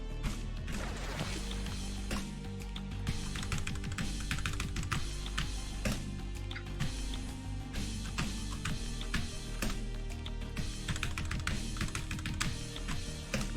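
Computer keyboard keys clatter in fast, dense bursts during play of the PC rhythm game Sequence Storm, continuous loud tapping over a throbbing electronic music track.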